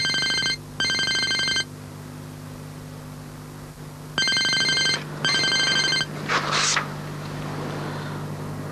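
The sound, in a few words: telephone ringing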